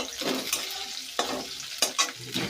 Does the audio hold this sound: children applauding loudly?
no